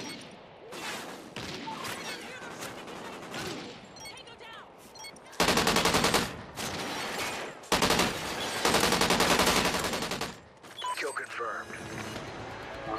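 Weapon fire in the video game Call of Duty: Ghosts arrives in loud automatic bursts that start and stop abruptly, mixed with game effects, and someone talks over the gameplay.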